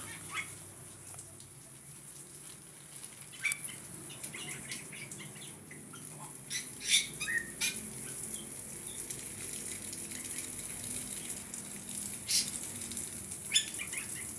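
Small birds in a large aviary about 8 by 20 metres and 5 metres tall flutter their wings and chirp in scattered bursts, with soft, fairly close wingbeats and short high calls over a steady ambient background.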